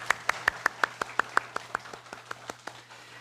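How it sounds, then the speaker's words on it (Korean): A church congregation applauds a sister after her musical performance, with faint, evenly spaced claps in a brisk, regular rhythm over a low steady hum, softening toward the end. "우리 특순해 주신 우리 안나라 자매님에게 다시 한번 박수하겠습니다"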